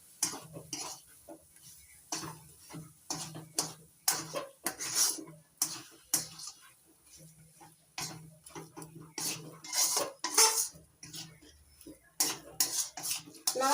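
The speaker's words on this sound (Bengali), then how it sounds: "এবার নাড়াচাড়া করে নিচ্ছি।" Mashed cabbage being stirred and mixed with mustard oil in a pan, giving a steady run of soft scrapes and light clinks from the utensil, close up and alone with no talking.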